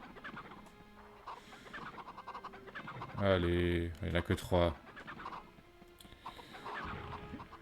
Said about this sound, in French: Il faut qu'ils aillent bouffer leur grain là vite.